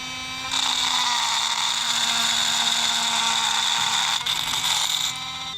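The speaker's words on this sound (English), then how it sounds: "This is a little round burr for the little multi-tool here." A small rotary multi-tool fitted with a round burr whirs at high speed while it grinds a D-shaped hole, giving a steady buzzing whine for several seconds that starts and stops abruptly.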